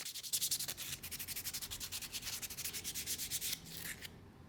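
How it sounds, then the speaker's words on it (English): Hand sanding of a Bradford pear wood bowl, a fast regular rasping rub with steady back-and-forth strokes, close and fairly quiet, stopping just before the end. "Then sand it all smooth."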